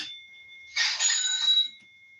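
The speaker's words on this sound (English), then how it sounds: "you wouldn't be hitting a bell over and over again" A bell struck rapidly over and over, a bright ringing burst of about a second after a sustained high tone, close and fairly loud with no talk.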